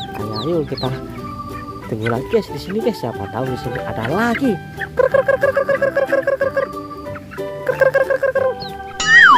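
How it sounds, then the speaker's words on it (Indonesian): Colorful rainbow chickens cluck and call repeatedly nearby, some in rapid rhythmic bursts, while a person talks over them. "Di sini ada ayam rainbow lagi."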